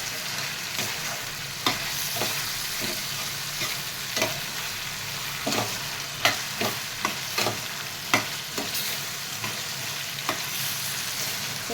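A tomato and dosakaya curry cooks on high heat in a pan, a soft continuous sizzle broken by irregular sharp scrapes and taps of a spoon stirring, close up with no talking.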